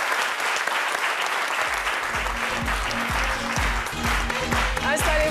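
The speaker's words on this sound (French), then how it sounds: "Merci de l'applaudir très," An audience greets the arrival of imam Ibrahim Konan with loud, dense clapping, while a steady rhythmic beat of music thumps underneath from about halfway through.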